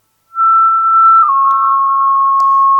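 A pure, piercing whistle-like tone rings steadily from a self-oscillating Yamaha Montage synthesizer filter, stepping slightly down in pitch partway through, with a few faint clicks.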